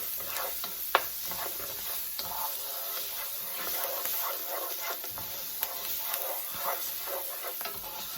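Paella ingredients frying in a pan, with a continuous soft sizzle and scattered small crackles and stirring clicks, fairly quiet and close, with no talking.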